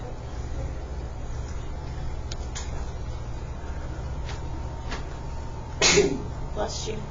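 A single short sneeze bursts out near the end over a steady low room hum, with people talking nearby in a study session.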